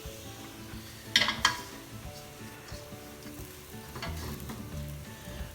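Onions, mushrooms and pancetta sizzle steadily in a pan over a big gas burner, a close continuous fry with a couple of brief utensil scrapes and stirs near the start.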